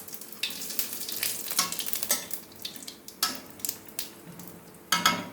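Cumin seeds and a dried red chili crackle in hot oil for a fish curry, a dense close sizzle broken by bursts of spattering and light spatula scrapes against the pan, with no voices.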